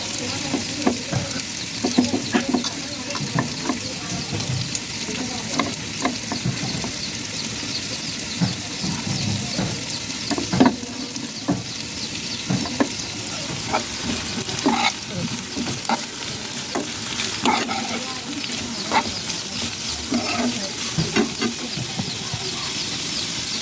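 Carrots and green chilies sizzle steadily in a pan for winter vegetable egg noodles, with repeated scraping and tapping from a stirring utensil on top of the constant frying hiss.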